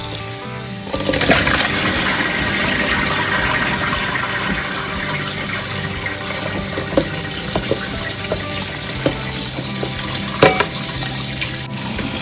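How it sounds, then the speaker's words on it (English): Tap water runs steadily over salted kimchi vegetables as they are rinsed in a bowl, a loud, continuous gushing splash with a few brief clatters and a change in the flow near the end, and no speech. "So we'll rinse this probably like 3 times, just to make sure we washed out all the salt."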